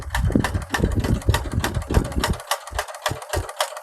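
A sewing machine stitches a pant hem in steady rapid bursts of motor whir, close and loud, then slows to a few separate short runs.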